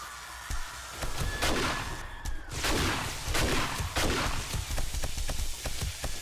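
Rockets and automated turrets firing in the survival game 7 Days to Die, a dense barrage of sharp repeated shots and blasts with no pause, loud and close.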